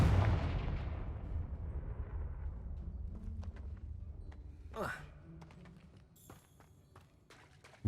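A Confringo fire-blast spell in Hogwarts Legacy erupts in a loud booming blast whose rumble slowly fades over several seconds. Scattered clicks and a short whooshing sweep follow, and a voice speaks faintly underneath.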